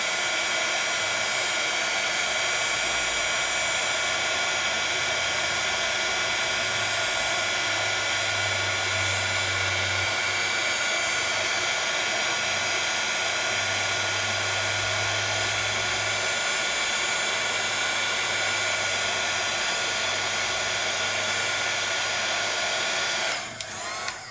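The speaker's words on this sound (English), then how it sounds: "You can see where the heat has melted those little granules of" A heat gun blasts steadily at close range for about 24 seconds, melting embossing powder granules on a crafting surface, a loud continuous airy roar with a low motor hum underneath, cutting off abruptly at the end.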